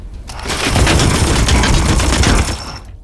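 A sustained burst of rapid automatic gunfire from Warhammer 40,000: Chaos Gate - Daemonhunters, loud and dense for about two and a half seconds before cutting off, with no talk over it.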